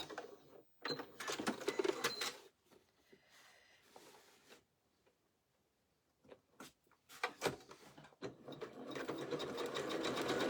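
A sewing machine runs a satin stitch in several bursts of rapid, even whirring close up, with short pauses and quiet handling between runs and a longer final stretch, no talking.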